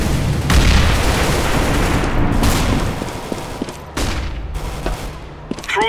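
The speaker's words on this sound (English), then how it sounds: "Grenade out!" A grenade thrown and exploding in Counter-Strike: Global Offensive, a loud sustained barrage of booms and gunfire-like cracks rolling for several seconds, with a few sharper hits near the end.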